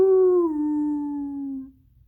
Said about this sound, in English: Suddenly, a terrible howl stopped him in his slipping tracks.